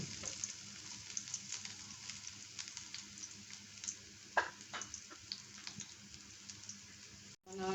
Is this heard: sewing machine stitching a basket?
no